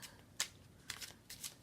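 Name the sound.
shuffling tarot cards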